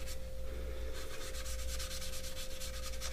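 Buffing compound is rubbed by hand across a flat metal surface, making a steady, close, continuous scrubbing hiss with a soft brushing rhythm in the later part and no voices.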